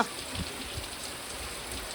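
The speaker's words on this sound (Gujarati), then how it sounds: "કાલનો વરસાદ એટલો પડે છે" Heavy rain falls steadily after a full day of downpour near a swollen river, a dense even hiss of drops striking surfaces, close and unbroken.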